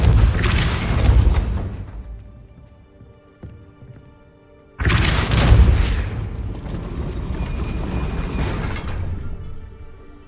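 Two loud Depulso spell blasts in the video game Hogwarts Legacy, each a sharp booming burst followed by a ringing, decaying tail, the second longer than the first.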